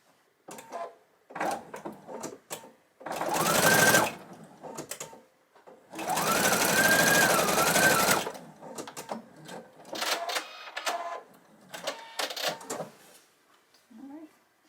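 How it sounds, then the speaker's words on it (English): Sewing machine stitching a half-inch seam through pinned mini-quilt layers in short bursts, two long loud runs among quieter stop-start stitching and handling clatter. "Once they're pinned in place, you're ready to sew."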